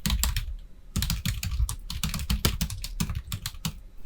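Rapid computer keyboard typing entering text in a word processor, a dense run of close clicks and key taps with brief pauses, no talk.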